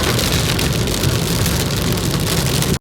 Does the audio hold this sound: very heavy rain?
yes